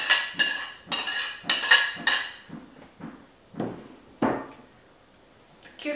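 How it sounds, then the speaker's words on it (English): Chopped cucumber, tomatoes, red onion and cooked quinoa are dropped into a bowl for a Greek salad, giving a series of sharp clattering knocks and clinks, about nine distinct hits spaced irregularly, close and fairly loud, fading toward the end. "now let's add our ingredients to a bowl"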